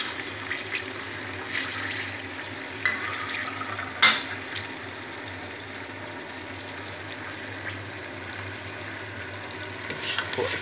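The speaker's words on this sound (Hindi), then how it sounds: "ऑयल हमारा गर्म हो चुका है, हम इसके अंदर प्याज डालेंगे।" Onions sizzle in hot oil in a pan, a steady close frying hiss with one sharp clatter of a utensil partway through, no talking heard.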